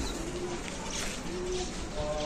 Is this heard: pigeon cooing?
yes